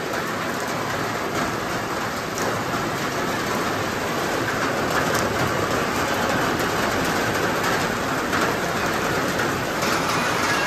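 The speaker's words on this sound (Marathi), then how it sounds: "मला तुम्हाला दाखवायचं आहे की कोरिओग्राफीला जायच्या आधीच किती जोरात पाऊस आलाय बघा" Heavy monsoon rain pours down in a dense, continuous broadband roar, steady and close, with no talking.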